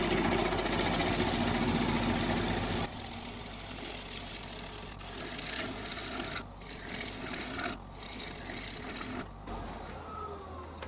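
Wooden bowl turned thin on a lathe, the gouge cutting shavings with a continuous rasping scrape, broken by a few abrupt pauses and shifts in tone as the thin walls vibrate.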